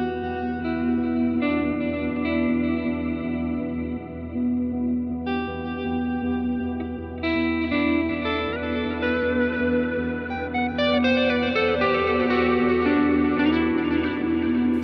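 A sustained droning electric guitar through a Line 6 Helix effects unit, soaked in chorus and echo, layered tones shifting and building slowly, loud and continuous with no voices.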